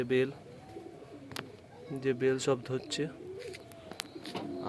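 Pigeons coo softly in low, rounded phrases nearby while a person speaks over them.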